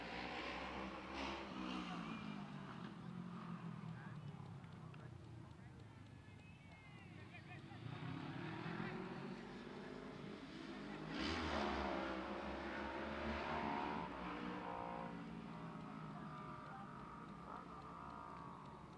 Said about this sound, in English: Young people on their motorbikes showing off to people going by, flying, doing wheelies.